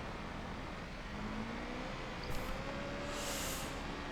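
A badly damaged Skoda in BeamNG.drive strains uphill, its engine droning steadily with a faint rising whine and a few scrapes and rattles over a constant rumble.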